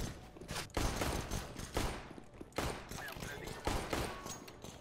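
Loud gunshots in Counter-Strike come in several separate bursts of quick shots a second or so apart, with a player talking between them.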